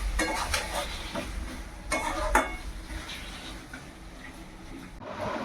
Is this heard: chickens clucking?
no